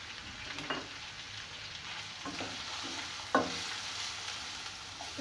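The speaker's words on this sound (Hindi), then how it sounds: "पहले हम थोड़ा सा मसालों को भून लेते हैं" Coriander, turmeric, chilli and salt roast in a pan with a soft, low sizzle, punctuated by a few scraping strokes and one sharper knock of a spoon against the pan.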